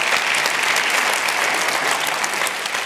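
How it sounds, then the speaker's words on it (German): Audience applause at an education award ceremony: steady, dense clapping from a large crowd, loud and continuous throughout with no voices over it. "Ja, ich glaube, das war der Applaus."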